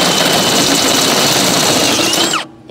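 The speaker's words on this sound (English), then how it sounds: "Step drills are good too." A loud, steady high-pitched whine of a step drill boring into metal, stepping from 7/16 to 1/2 inch, continuous for over two seconds before cutting off abruptly near the end.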